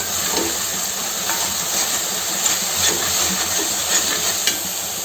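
A kitchen mixer grinder grinding gongura leaves: a loud, steady, close whirring roar with a constant high whine, running unbroken the whole time with no talking.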